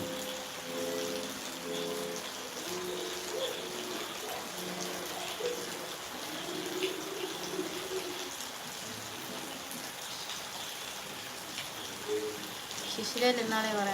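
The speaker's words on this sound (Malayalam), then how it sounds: "ഭയങ്കര മഴയാണ്" Heavy rain pours steadily outdoors at night, a dense continuous hiss that stays even throughout, with a voice speaking faintly underneath.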